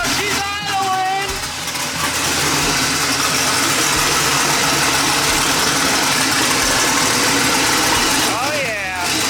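A twin-turbo Mustang engine idles roughly and steadily at close range, a loud, uneven rumble that stays constant throughout, with faint voices at the start and end.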